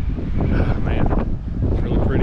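Strong gusting wind buffeting the microphone during a motorcycle ride at sunset, a steady loud rumble with a person speaking over it.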